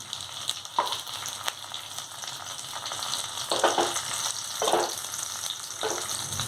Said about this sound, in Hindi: तो इस तरह से हम दोनों साइड से शैलो फ्राई कर लेते हैं